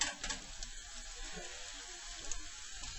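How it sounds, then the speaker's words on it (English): Onions sauteing in a pan for a white sauce give a steady, quiet sizzle and crackle, close up and with no voices. "we whisk it a little bit more, trying to saute the onions"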